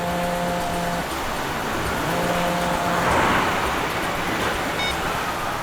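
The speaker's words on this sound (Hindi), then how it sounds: "बाद में बात करो, गाड़ी चला रहा हूँ मैं अभी।" A car is driven under a steady, loud broadband road and engine rumble that swells slightly midway, while a faint tone sounds in the background, with no talk over it.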